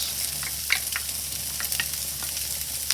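Carrots and cabbage fry in an oiled pan for veggie lettuce wraps, producing a soft continuous sizzle broken by quick light clicks and ticks, heard close and alone.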